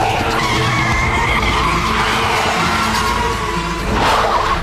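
Car skidding hard with tyres screeching loudly and continuously, a rough engine roar underneath and a sharper scrape near the end, close and with no talking.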